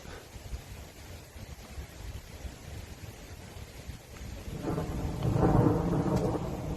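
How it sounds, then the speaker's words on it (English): Thunder rumbles from a thunderstorm over a golf course, a low, distant roll that builds in the last seconds to a louder, deeper swell under steady wind noise, with no talking. "Storm is in full effect."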